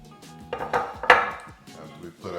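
Bacon goes into a leveled cooking pot for green beans and potatoes, with several sharp metallic clanks and clinks of utensil against pot spaced irregularly, close and fairly loud.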